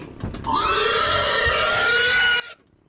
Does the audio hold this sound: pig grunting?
yes